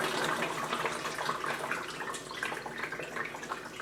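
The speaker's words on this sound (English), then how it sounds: "I'm just pour it in nice and carefully. Try not to splash too much" A bucket of watery wax slop is poured carefully through a splash guard while rendering wax. It makes a continuous close splashing, gushing pour with no pauses.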